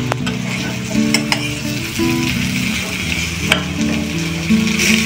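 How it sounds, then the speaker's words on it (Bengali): Chopped onion frying in a pan after fried potatoes, a steady sizzle with a utensil scraping and clinking against the pan as it is stirred, close and alone. "এবার কেটে রাখা পেঁয়াজটা দিয়ে দেবো।"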